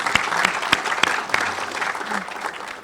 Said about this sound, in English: Todd and his team deserve a big round of applause